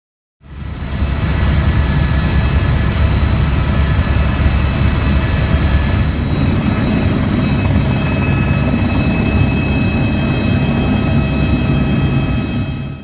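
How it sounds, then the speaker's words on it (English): A helicopter flies over a glacier toward Mount Cook in New Zealand: a loud, constant roar of engine and rotor starts abruptly and holds steady, with no talk. "We all boarded the helicopter and were so excited to be flying up over the glacier onto Mount Cook."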